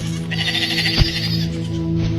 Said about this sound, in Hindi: नदी के उस पार से बकरियों की आवाजें उसे फिर सुनाई देने लगी